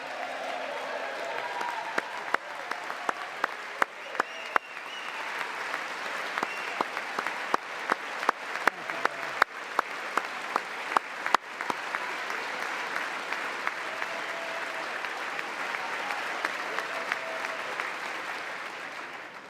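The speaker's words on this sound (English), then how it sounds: "With the name Kennedy, you would have thought everybody over here would have been cheering" Sustained audience applause at a political speech mentioning Robert F. Kennedy Jr., a dense steady patter of clapping across the room with scattered sharper claps, no cheering voices standing out, continuing throughout without spoken words.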